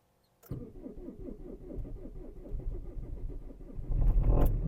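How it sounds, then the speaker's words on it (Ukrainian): A diesel engine cranks on its starter in -12 frost, with a steady close chug of cranking beats that catches and rises into a louder running roar at the end. "Завелося з першого. Тільки довгенько крутила стартером."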